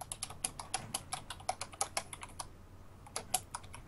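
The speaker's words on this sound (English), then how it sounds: "Wow, that's so loud clicking." Rapid, loud computer keyboard clicking sounds close by in quick bursts, with a brief pause midway before the typing resumes.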